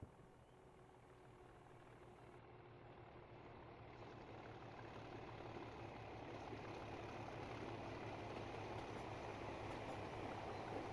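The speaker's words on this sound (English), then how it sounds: "There's our train." A train runs on the Cumbrian Coast line in the Train Simulator Classic video game, a faint, steady low engine rumble that slowly grows louder with no one talking.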